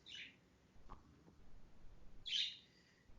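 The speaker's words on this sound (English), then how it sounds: "I hear the birds" Two short, high bird chirps ring out faintly outdoors, one at the start and one near the end, separated by quiet background hiss.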